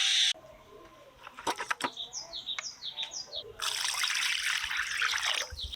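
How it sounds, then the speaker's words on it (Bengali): Pieces of katla fish being rinsed and lifted out of water, with intermittent splashing and trickling close by, then a steadier rush of running water toward the end. "মাছের পিসগুলো পরিষ্কার করে ধুয়ে নিয়েছি জল থেকে ছেঁকে তুলে নিচ্ছি"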